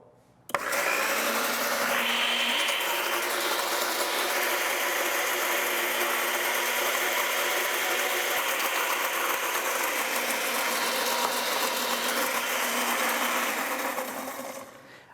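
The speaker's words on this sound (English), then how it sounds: "I always start my dressing mixer on low." Electric salad dressing mixer running on low speed while olive oil and dressing ingredients blend, a steady motor whir that holds at even loudness for nearly the whole stretch, starting abruptly and tapering only at the end.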